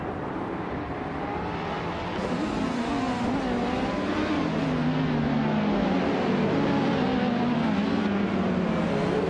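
Race cars, including an Oreca 07 Acura prototype, drive in a racing video game, with loud engine drones rising and falling in pitch as they accelerate and shift, continuous and close.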